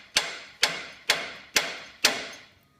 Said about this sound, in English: And now I'm going to hit that ball joint.